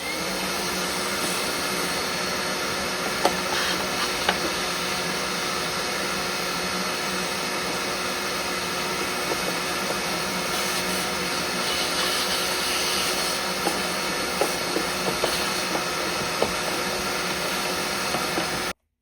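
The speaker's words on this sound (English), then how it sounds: "Before installing new filter, I will vacuum inside of the box." A vacuum cleaner runs continuously with a steady whooshing roar, close and fairly loud, with small bumps and rattles as it cleans inside a car's air filter box.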